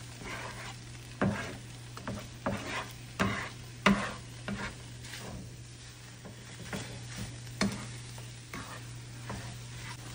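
Corned beef and eggs fry in a small amount of oil with onion and garlic, giving a soft steady sizzle broken by sharp clinks and scrapes of a utensil stirring in the pan, close and moderately quiet.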